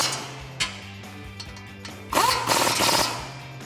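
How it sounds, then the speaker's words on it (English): Steel brake caliper bolts on the front of a 2015-2020 Ford F-150 are tightened with a 21mm socket, giving a ratcheting burst and metallic clicks over a low background hum, with louder broadband clatter toward the end. "So now I can tighten up my caliper bolts with my 21mm socket."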